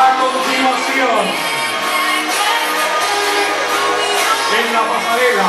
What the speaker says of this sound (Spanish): Despedimos con un aplauso